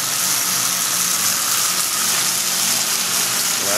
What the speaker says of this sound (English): Here's the return line flow with everything coming back full speed.